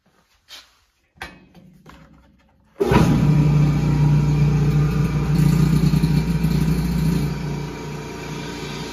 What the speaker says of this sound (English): I could easily have a conversation with this compressor running